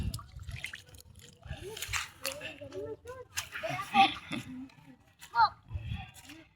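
Children play and splash in the sea, with bursts of water splashing and bright children's voices and shouts mixed with nearby adult talk, rising and falling in uneven, lively bursts.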